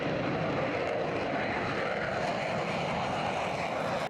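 A continuous, loud, roaring drone from an AV-8B Harrier II jet aircraft engine holds steady and close throughout, with no pauses or voices.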